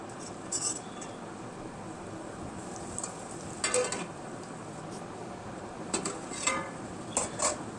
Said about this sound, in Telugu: వట్టి తునుకలను నూనె లోపల ఒక ఐదు నిమిషాల పాటు ఉడకనివ్వాలి